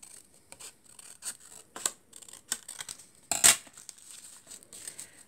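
Scissors cut paper for a handmade card, producing close, crisp snipping and crinkling sounds in a few irregular strokes, with one louder snip near the end and no voices.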